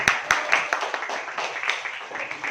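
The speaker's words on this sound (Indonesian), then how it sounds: "Mari kita beri tepuk tangan untuk kelompok 1" A classroom of students claps for the first group after its presentation, a short burst of scattered, uneven hand claps close by that tapers off within a couple of seconds.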